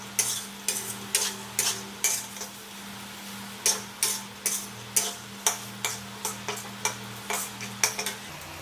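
Green beans, garlic and shallot are stir-fried in a pan, with a steady sizzle under regular scraping strokes of a utensil, about two per second, close and clear.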